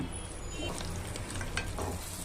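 Spices with turmeric and salt being dry-roasted and stirred in a pan, with a soft crackling sizzle and occasional scraping strokes, close and fairly quiet.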